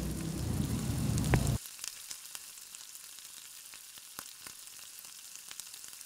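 A whole chicken drops into a hot pan of garlic and onions, giving a loud, dense sizzle for about a second and a half before it quickly dies down to a faint crackle with scattered small pops.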